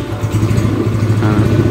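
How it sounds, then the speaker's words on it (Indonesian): A motorcycle engine fired up with the electric starter and settling into a steady, close idle, running alone without talk. "Nah kita starter, kita hidupkan mesinnya."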